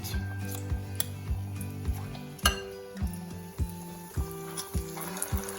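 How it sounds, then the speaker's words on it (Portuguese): Codfish balls (bolinhos de bacalhau) fry in hot oil, with a low steady sizzle under a string of sharp metallic clinks from spoons tapping the pan, close and moderately loud. "Nós vamos fritar esses 2 para ver se tá com sal suficiente"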